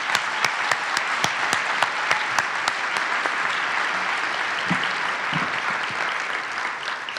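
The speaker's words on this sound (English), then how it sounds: "Let's show her an in-person round of applause." An in-person round of applause for a returning award winner at a regional State of the Region event, steady crowd clapping with several sharp, loud individual claps standing out near the front, tapering slightly at the end.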